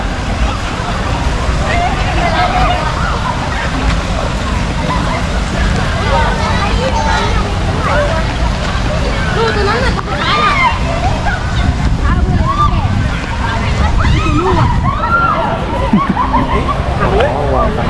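People play and splash in water at a campsite in Nakhon Nayok, Thailand: a dense, steady wash of sloshing water and crowd babble, loud and close throughout.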